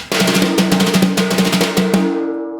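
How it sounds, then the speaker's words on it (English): A rapid series of brush slap strokes on a snare drum, slapping with a ringing tone that hangs and fades at the end. "the other third primary single stroke action I like to call a slap"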